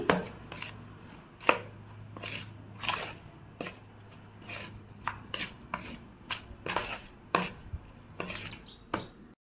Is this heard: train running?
no